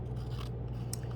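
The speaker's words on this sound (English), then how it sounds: "cut another square there" Scissors snip through paper while cutting squares for shape cutouts, a single short close-up rasping cut in an otherwise quiet space.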